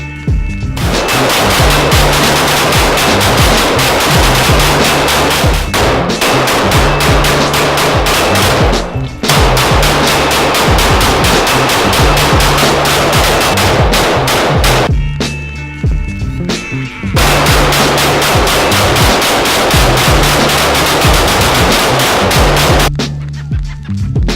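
Bursts of rifle gunfire from a 1947 model weapon at a tactical shooting range, loud and rapid, arriving in several long strings of shots separated by brief pauses.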